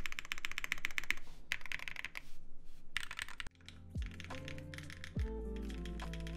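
Typing on a Viendi 8L mechanical keyboard, rapid clacky keystrokes in bursts with short pauses, close and crisp, followed by a few slower individual key presses over a faint background hum.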